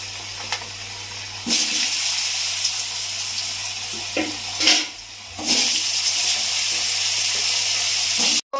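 Potatoes and black cumin seeds drop into hot oil for a fish curry, giving loud hissing bursts of sizzle that surge, pause briefly and flare again.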